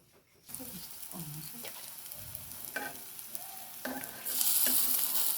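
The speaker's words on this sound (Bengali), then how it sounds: "এখন আমি একটা কড়াইয়ে তেল গরম করে নিয়েছি। এখন এর মধ্যে আমি পেঁয়াজগুলো ছেড়ে দেবো।" Hot oil crackles and sizzles as onions are dropped into a pan one by one, with scattered pops and a few clinks, the frying growing louder toward the end.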